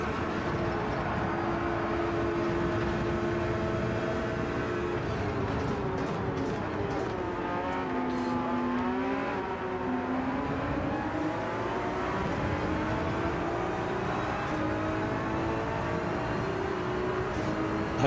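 Ferrari 296 engine racing in Gran Turismo 7, a steady sustained engine drone that rises and falls in pitch through gear changes, with high upshift whines. It runs continuously for the whole stretch at even loudness.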